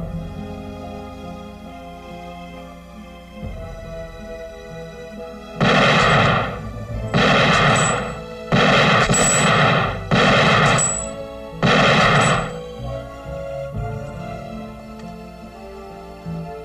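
Gunfire from target shooting in a film comes as about five loud, sharp bursts in quick succession over a quieter background score, with no speech.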